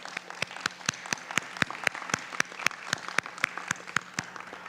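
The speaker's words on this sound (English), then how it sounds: "Let's give them a round of applause." Audience at a school board meeting gives a brief round of applause, individual claps sharp and spaced in a steady rhythm, moderately faint in a large room with no talking.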